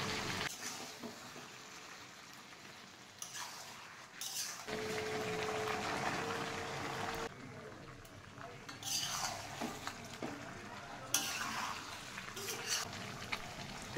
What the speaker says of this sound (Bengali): আর একটু মাংসটা কষিয়ে নিয়ে এর মধ্যে ভেজে রাখা আলুগুলো দিয়ে দেবো।